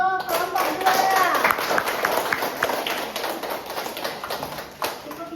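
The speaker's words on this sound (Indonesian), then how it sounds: "Aplaus untuk kelompok 2." A classroom group claps for a fellow student group, dense and steady throughout, fading slightly toward the end with voices mixed in underneath.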